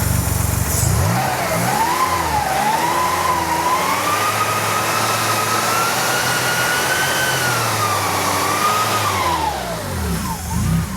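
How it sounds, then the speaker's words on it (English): A Porsche 914/6 flat-six engine revs up from idle close by, climbing and holding a raspy, rising tone for several seconds before dropping back down, loud and clear with no talk over it. "Toss a couple revs into it, Wayne."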